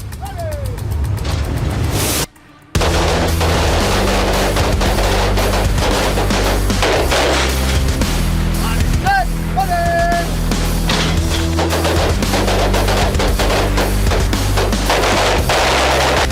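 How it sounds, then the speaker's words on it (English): Pistol shots fired in a timed contest drill, five shots in five seconds from a multi-caliber pistol, heard as loud cracks buried in a dense, continuous background with one brief dropout early on. "5 shots, 5 seconds"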